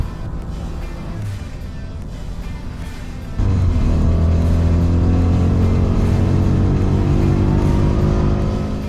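A loud supercharged V8 engine of a 2016 Ford Mustang rumbles on a race track, then surges sharply louder and holds a steady, throaty roar with rising harmonic tones.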